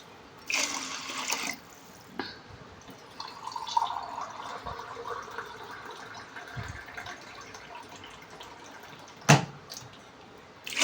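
Four glasses of water are poured into a pot for chicken dum biryani rice, a steady splashing flow with a few louder knocks and drips at the start and near the end. No voices.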